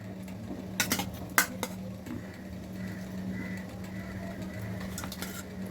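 Fish added to a pan with potatoes and pointed gourd: a few sharp metallic clinks and scrapes of utensils against the pan, then a faint steady cooking hiss.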